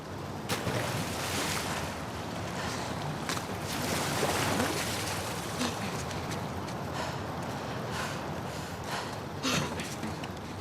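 Fast-flowing torrent of water rushes through sewers in The Last of Us Part II, a steady dense roar with occasional louder surges, continuous throughout with no talk.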